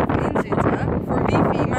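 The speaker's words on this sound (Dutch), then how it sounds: "er is een hele harde wind, ik hoop dat jullie me goed horen" Strong wind buffets the microphone in loud, uneven gusts of low rumble, with a person's voice partly heard through it.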